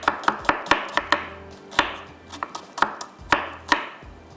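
Knife chopping an onion on a cutting board, with a quick run of sharp, close taps followed by slower, scattered cuts, each a crisp, distinct knock.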